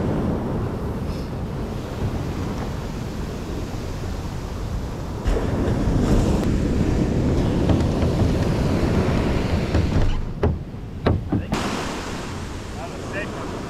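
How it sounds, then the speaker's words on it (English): Ocean waves break as steady surf on a beach beside the Tamarack power plant jetties on a morning swell, a continuous loud roar with wind buffeting the microphone and swelling surges throughout. "Pretty good swell this morning. There's some decent beach break."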